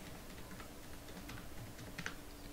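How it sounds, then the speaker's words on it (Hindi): A password being typed on a computer keyboard: faint, scattered key clicks in an irregular rhythm over a steady low background hiss, no voices. "अब यहाँ आप अपना पासवर्ड टाइप कर दीजिए"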